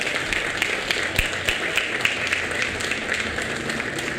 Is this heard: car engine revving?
no